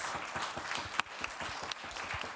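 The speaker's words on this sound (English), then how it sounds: "Rounds of applause for everyone" A panel audience gives a brief round of applause for the speakers, with a few distinct claps standing out over softer scattered clapping in the room.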